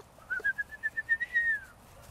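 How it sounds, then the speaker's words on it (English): A whistle calls a litter of four-week-old puppies, a series of about ten quick pulsed high notes followed by a longer sustained tone, clear and fairly close over quiet background. "The whole litter heard me whistle."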